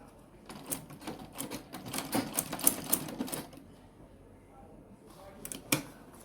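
A sewing machine stitching a zipper coin purse runs in short, uneven bursts of rapid clicking and tapping, fairly faint, pausing briefly before a final quick burst.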